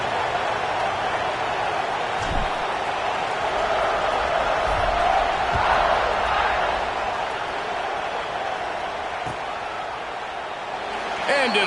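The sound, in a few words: football stadium crowd buzzing after a score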